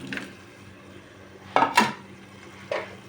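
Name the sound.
stirring fish and potatoes in a pan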